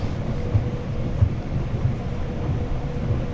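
Transpennine Express passenger train running between Scarborough and Manchester Piccadilly, heard from inside as a steady low rumble with faint periodic thumps of wheels over rail joints, continuous and without talk.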